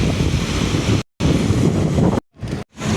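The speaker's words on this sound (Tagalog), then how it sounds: "Maulan pa rin." Heavy rain pours down on flooded streets in Dubai, a loud, steady broadband rush close to the microphone, cut by brief silent gaps. No one speaks.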